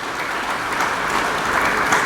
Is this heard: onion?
no